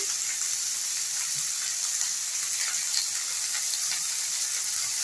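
Potol, potatoes and carrots frying in a pan of tempered oil, a steady close sizzle with soft crackles and faint clicks of stirring, running evenly with no talking.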